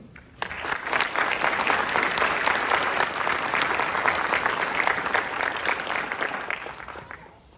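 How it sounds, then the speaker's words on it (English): A graduation audience for a drill sergeant class breaks into applause for the Commandant's list, the clapping starting abruptly, staying full and even for several seconds, then tapering off at the end. "Please join me in a round of applause for the Commandant's list."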